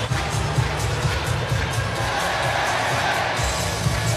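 Hockey arena crowd roaring and cheering after a Colorado Avalanche goal against the Red Wings, a dense sustained wash of voices and whoops that holds at a steady level throughout.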